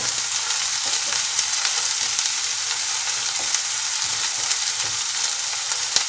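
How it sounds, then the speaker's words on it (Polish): Steady, dense sizzling of onions frying to golden in a pan, a continuous crackle with faint stirring clicks, fairly loud and close, no voices. "Cebulę smażymy na złoty kolor."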